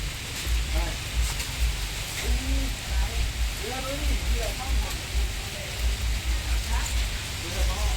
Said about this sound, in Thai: ข้างล่างฝนตกครับผม